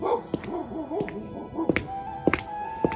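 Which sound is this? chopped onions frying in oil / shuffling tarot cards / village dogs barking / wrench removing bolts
village dogs barking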